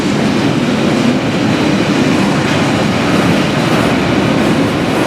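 A freight train passes nearby, a steady loud roar of wheels and rattling wagons that holds throughout without a break.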